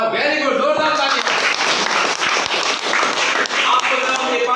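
Students in a classroom burst into sustained applause, a dense, steady patter of many hands clapping for several seconds, with a voice briefly heard at the start.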